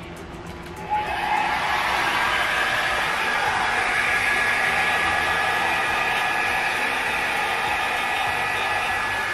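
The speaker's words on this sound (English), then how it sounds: "Ibo-blow dry ko na siya." A hair dryer blows hair dry after a keratin treatment. It switches on after about a second and then roars steadily and loudly at close range with a constant airy whoosh, with no one talking.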